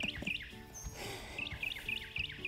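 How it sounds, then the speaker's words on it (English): Morning birds in a garden give short, bright chirps in quick clusters, repeating in small bursts against a quiet background. "My morning birds. Aren't they beautiful?"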